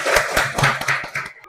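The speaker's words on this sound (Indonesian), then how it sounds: "Oke, berikan aplaus." A primary-school class gives a round of applause in the classroom, a close, fairly even run of claps with a steady rhythm that thins out and stops.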